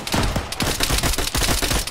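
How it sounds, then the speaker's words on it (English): Rapid, dense gunfire crackles in Arma 3, a continuous burst of loud, close shots in quick succession with no talking. "Danny just took a shot."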